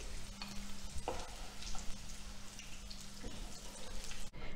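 Small potatoes fry in oil to a brown crisp with a steady, close bubbling sizzle, joined by occasional clinks and scrapes against the pan.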